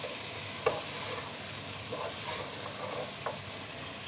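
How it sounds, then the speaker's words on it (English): Carrots and leeks stirred in a pot for a potato and lentil stew over medium-low heat, a soft continuous sizzle with a few faint scraping knocks of the spoon. "Give that a wee stir around."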